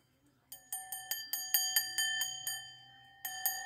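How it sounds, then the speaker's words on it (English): The rusty bell of a 1966 Westclox Baby Ben Style 8 alarm clock rings in a quick run of bright metallic dings, about ten strikes, a short pause, then two more, close and clear. "Here is the inside of the bell, which is kind of rusty, but it is a bell."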